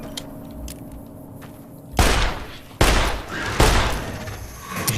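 Gunfire in Fallout New Vegas, a desert post-apocalyptic game: three loud, sharp shots about a second apart, each a booming crack with a ringing tail, breaking a quiet ambient background.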